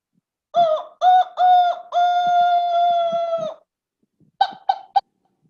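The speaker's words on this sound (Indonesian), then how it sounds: "Ada suara ayam yang berkokok di pagi hari." A rooster crows in the morning: several short, loud, tonal calls in quick succession, then one long sustained crow, a pause, and three brief calls at the end, all alone against silence.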